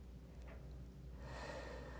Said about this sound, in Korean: 숨소리